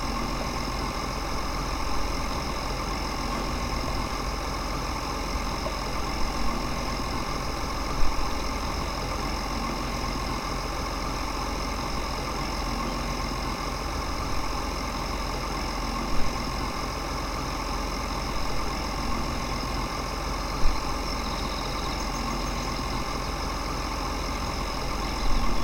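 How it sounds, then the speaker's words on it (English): A John Deere trike tractor in Farming Simulator 2013 runs with a steady, droning engine hum, even and continuous at low volume with a few faint clicks, and no talking. "This tractor is more for show than anything."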